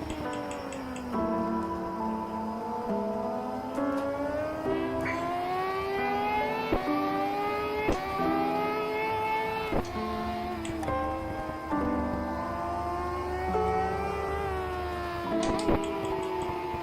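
A race car engine in a racing video game rises and falls through repeated throttle blips and gear changes on corner entry at MG, close and steady, with a faint ticking running throughout and no talk.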